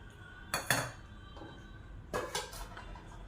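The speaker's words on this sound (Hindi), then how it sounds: "हलवे के लिए कढ़ाई चढ़ा दूँ" An iron kadhai set down for making halwa, with two clanking metal knocks close by, a bright clatter followed by a second cluster of lighter clinks a moment later against quiet kitchen background.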